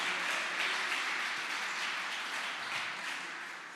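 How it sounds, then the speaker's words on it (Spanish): Congregation at an evangelical church service applauding the Lord, a broad steady wash of many hands clapping together, sustained and fairly loud throughout with no voices standing out. "Dale un aplauso al Señor"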